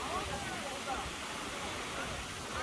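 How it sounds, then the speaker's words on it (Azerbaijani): Khalit waterfall near Shamakhi drops from a height of 30 metres, and its water makes a steady, dense broadband rush that holds unbroken throughout. "30 metr yüksəklikdən axan şəlalənin gördüyünüz ən füsunkar şəlalələrdən biri olacağına əminəm"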